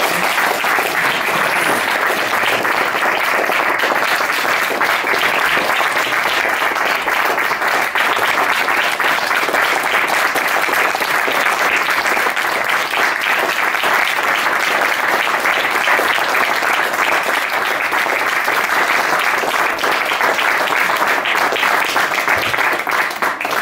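A theatre audience applauds loudly and steadily for over twenty seconds at the curtain call of a French stage show, a dense, unbroken wash of clapping with no let-up.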